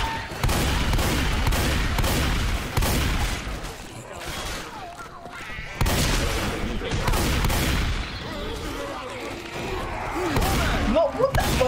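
Repeated gunfire blasts in Left 4 Dead 2, including shotgun shots, hit as loud booming bursts every second or so through the stretch, while players talk over the action.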